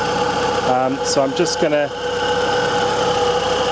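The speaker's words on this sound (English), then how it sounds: "So now after that, it's idling as it should." A freshly rebuilt Honda B18 car engine idles with a steady, even mechanical hum and light ticking vibration, while someone speaks briefly over it.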